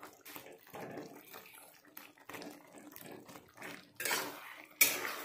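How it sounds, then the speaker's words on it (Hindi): Tomatoes for a quick tomato pickle softening in a pan while a utensil stirs and mashes them, giving scraping, clinking metal-on-pan clatter in short irregular bursts and a sharper clank near the end, with no voices. "मैं इसे चलाते रहूंगी।"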